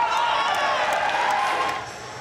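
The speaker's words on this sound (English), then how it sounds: "This crowd oohs and ahs every time Rodtang comes" A ONE Championship fight crowd, watching Rodtang, roars in a loud, sustained swell of oohs and cheers that holds steady before easing off at the end.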